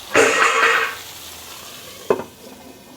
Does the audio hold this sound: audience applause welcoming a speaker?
no